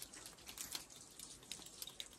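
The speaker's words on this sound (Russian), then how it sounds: "И отсюда идет вода." Water drips from a hollow in a rock in a desert mountain gorge, a faint series of small irregular drops over a quiet background.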